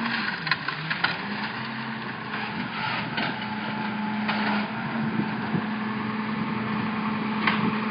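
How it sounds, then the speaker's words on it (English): A garbage truck's compactor churns steadily as discarded signs, chairs and carpet are fed in during an outdoor encampment clearance, giving a continuous mechanical drone with intermittent clunks and scrapes and no talk. "Here's the garbage truck where you can see"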